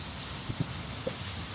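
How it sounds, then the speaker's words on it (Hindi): Steady, dense hiss of heavy rain pouring down, with a few faint drips standing out. "बारिश इतनी तेज हो रही है"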